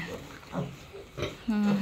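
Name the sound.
pigs grunting, sow with piglets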